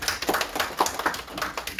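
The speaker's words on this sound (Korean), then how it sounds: "박수 한번 쳐주십시오." An audience claps together in a burst of applause, a steady patter of hand claps at close range for under two seconds.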